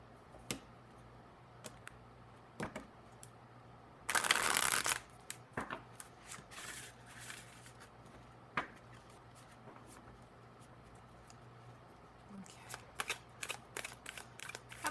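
Oracle cards are shuffled in short, crisp riffling bursts, with one loud flurry near the start and lighter taps and flicks scattered after it. The sound is close and there is no talking.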